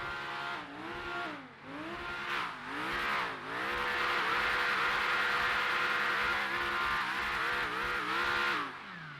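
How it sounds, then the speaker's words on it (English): A Supra with a custom exhaust in a roleplay racing game is revved several times, its engine rising and falling in short blips before holding a loud, steady, rasping drone close up. "the exhaust is custom as on the Supra, and I'm going to rev it a bit for you"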